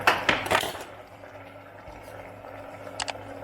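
Chopped onion and sweet pepper are dropped into a pot of pressure-cooked oxtail with a few clattering knocks and scrapes at the start, a faint kitchen hum, then a pair of light clinks near the end.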